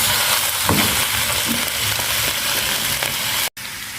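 Cabbage and onions sauté in a pan, a loud, steady frying hiss with a few scraping stirs, broken by a brief dropout near the end.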